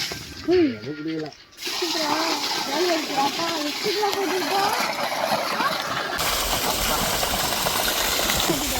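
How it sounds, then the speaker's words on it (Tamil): A steady rush of flowing water fills a jasmine flower garden, loud and continuous, after a brief burst of speech at the start. "இதெல்லாம் தண்ணி பாயும் போல"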